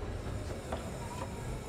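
A train rolling slowly along depot tracks, a low steady rumble with faint wheel squeal and light rail noise, continuous and moderately near.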